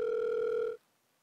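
A steady telephone dial tone hums while a call is placed again, then cuts off abruptly partway through, leaving near silence.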